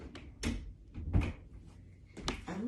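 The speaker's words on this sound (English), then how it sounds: "I had to close the door." A door is shut indoors with a couple of short knocks and thuds, followed by a firmer closing bump and small rattles, fairly quiet and close, with no speech.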